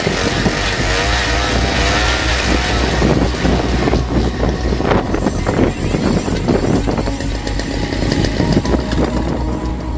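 Gasoline-powered ice or earth auger engine running steadily after an idle-speed adjustment, a loud, close two-stroke drone with rough, buzzing texture and slight fluctuations in pitch, with wind noise on the microphone.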